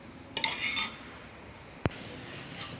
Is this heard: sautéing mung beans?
yes